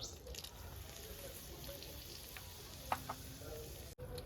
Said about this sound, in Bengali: তেল গরম হয়ে গেছে আমি দিয়ে দেবো শুকনো লঙ্কা